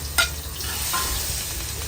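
Garlic frying in cooking oil for squid adobo, a steady close sizzle with a brief stirring scrape near the start, no talk.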